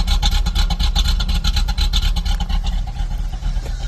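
A car engine idles close by with a steady, rumbling, slightly lumpy pulse that holds throughout without revving and without any voice.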